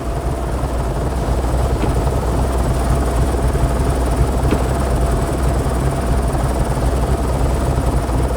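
A helicopter in the video game Nuclear Nightmare gives off a loud, unbroken rotor drone that stays constant and close throughout.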